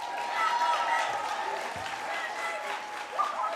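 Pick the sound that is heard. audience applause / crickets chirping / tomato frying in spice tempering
audience applause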